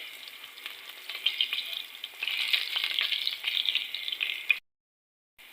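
Garlic pieces fry lightly in oil in a home kitchen, a soft, steady sizzle with faint crackles that swells a little midway, then cuts to silence.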